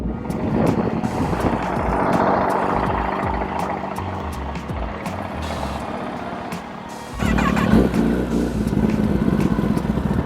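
A motorcycle creeps along slowly on the clutch with barely any throttle, giving a low, steady engine rumble up close that swells noticeably louder partway through.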